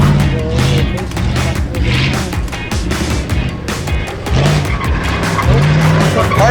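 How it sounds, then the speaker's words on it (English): A Dodge car in a junkyard challenge race, loud engine revving in surges with repeated tire squeals and skidding, close and continuous. "That Dodge just does not sound like it's making the power, or that it's really in low gear."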